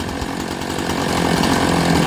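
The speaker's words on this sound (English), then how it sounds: "Okay, we got a good idle. Just listen to that." A chainsaw idling steadily up close, a continuous even buzzing drone with a slight rise in loudness toward the end, no talking.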